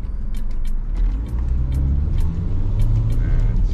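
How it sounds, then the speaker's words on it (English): A car in a driving test makes a steady, loud engine rumble that continues throughout, heard from inside the cabin, with a few brief ticks and clicks on top. "Speed up to 20, do a sudden stop."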